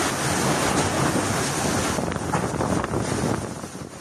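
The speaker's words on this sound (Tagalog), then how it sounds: "Nagliparan ng mga yero sa lakas ng hangin at ulan sa kasagsagan ng wind signal number 4 sa Batanes" Powerful typhoon wind in Batanes roars with a dense, continuous rush and buffeting gusts against the microphone, loud and unbroken, with rain likely mixed into the noise.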